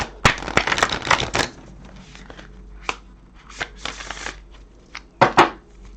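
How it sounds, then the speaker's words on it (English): Large oracle cards are shuffled close up in quick riffling bursts, a flurry at the start followed by a few separate shuffles and taps, with no talking. "Have a shuffle. These are big cards."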